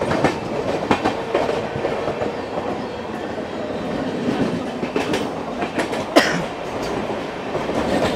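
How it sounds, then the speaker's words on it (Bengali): A Barddhaman super local train runs fast along the Chord Line with steady rumbling and clickety-clack from the rail joints, with a sharp metallic clank near the sixth second. "সাথে পাশে যাচ্ছে ভারতবর্ষের দ্রুততম লোকাল ট্রেন"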